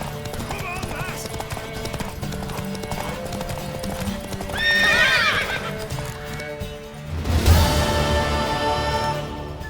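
Horse hooves clip-clop steadily while a horse whinnies loudly near the end, with music and brief voices in the background, in The Witcher 3: Wild Hunt.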